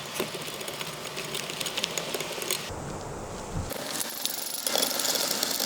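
Ratcheting socket wrench backing out 10mm bolts holding a factory amplifier in a 2016-or-later Toyota Tacoma, a steady rapid clicking that runs throughout, with a brief change in tone partway, close up and with no talking.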